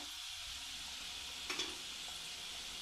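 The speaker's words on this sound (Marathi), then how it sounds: "आणि आता याला मीडियम ते मध्यम गॅसवर तळून घ्यायचे आपल्याला." Sambhar vadi fries in oil over a medium gas flame, giving a steady, even sizzle throughout with one brief clink partway through.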